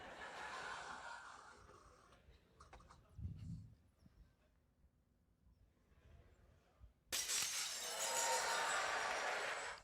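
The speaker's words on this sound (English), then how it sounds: "Students love it when the glass breaks." Glass shattering during a physics lecture demonstration at MIT: a dull thump midway, then a sudden loud burst of bright, crashing noise that stays dense to the end.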